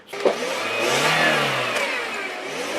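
A car engine revs while the driver rides the clutch, rising to a loud sustained strained roar that holds and then eases slightly, heard alone.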